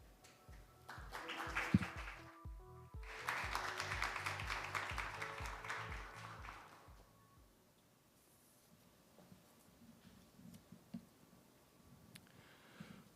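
Round of applause welcoming an expressway corporation executive at a business forum, a swell of steady clapping for several seconds that fades into quieter room sounds and scattered taps.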